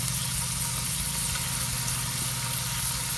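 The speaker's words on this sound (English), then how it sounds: "maybe you can hear the mower in the background or the wind noise" A lawn mower hums low and steady in the distance, its engine drone sitting beneath a dense hiss of frying food or wind noise.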